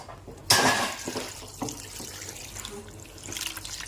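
Water splashes suddenly into a bowl of cut bitter gourds with salt and turmeric, a short gush that fades into softer trickling and sloshing nearby.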